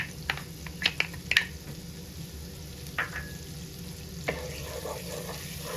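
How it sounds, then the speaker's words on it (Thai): Garlic stirred in melted butter in a pan for a sandwich with garlic-butter shrimp gives a low, steady frying sizzle broken by a few light clinks of a spatula, fairly quiet and close, no talking. "พอเนยละลายแล้วนะคะ จากนั้นเนี่ยเราก็จะใส่ กระเทียมลงไปค่ะ"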